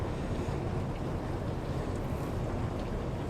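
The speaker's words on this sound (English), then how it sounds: "there's a blower that blows air in underneath the fire in there" A blower forces air under the fire of a maple syrup evaporator in a Vermont sugar shed, producing a loud, steady, broadband roar that stays constant throughout.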